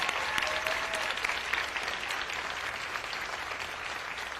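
A large audience applauds for a state governor at a vice-presidential event, a steady, dense wash of clapping that holds evenly throughout without pause.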